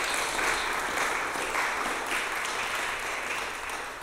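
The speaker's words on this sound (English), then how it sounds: "We get one more round of applause for Jim," Audience at a storytelling evening applauds the storytellers, a steady, full wash of clapping that holds at even strength throughout and eases slightly at the close.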